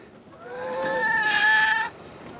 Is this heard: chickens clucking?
yes